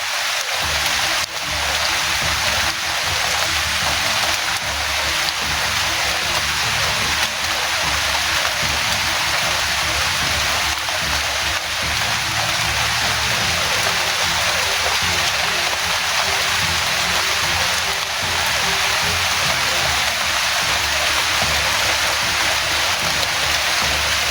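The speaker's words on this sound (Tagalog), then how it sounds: "So, malakas talaga yung ulan mga ka-idol." Heavy rain pours down continuously, a dense, loud roar of drops with no letup throughout.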